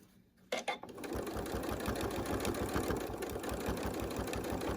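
A sewing machine stitches through fabric binding on a hot pad, starting after a brief pause and then running in a fast, steady mechanical chatter close by without talk.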